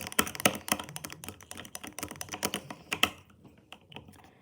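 No-glue slime being stirred and mixed, giving a rapid run of sticky clicks and wet taps, close and fairly soft, that thins out toward the end.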